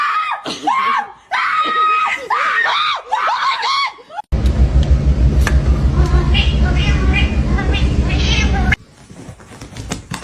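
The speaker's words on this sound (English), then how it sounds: "He's a very loving cat." A male house cat yowls and meows loudly in several insistent cries close up, followed by a burst of noisy rustling and scuffling.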